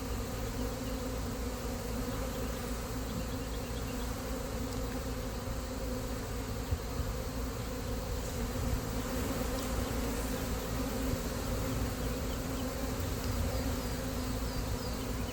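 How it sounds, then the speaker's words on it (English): Honeybees swarm during a hive removal from a mobile home in Florida, producing a dense, continuous, fairly loud buzz that stays steady throughout with no talking. "Look at all those bees running toward the queen."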